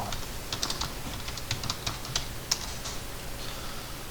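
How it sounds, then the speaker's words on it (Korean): Keys on a computer keyboard are tapped while working in AutoCAD: a quick run of light, close plastic clicks at an uneven pace over a faint room hum, with no voice. "자, 먼저 A 엔터 치시고 A 엔터."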